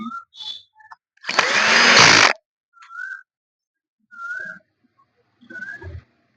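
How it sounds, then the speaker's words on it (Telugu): A power screwdriver drives a screw into a stand fan body during assembly, one loud whirring burst about a second long, amid sparse short whistling chirps and quiet gaps. "మనకి 4 స్క్రూలు వేసేసుకొని"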